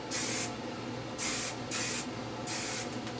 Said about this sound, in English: I'm also going to spray each layer after you do finish curling